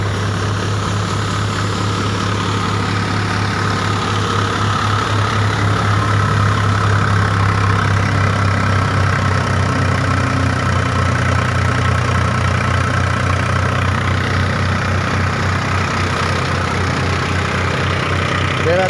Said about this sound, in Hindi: मेरा 14 की रेस में चल रहा है ट्रैक्टर